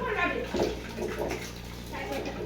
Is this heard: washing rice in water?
yes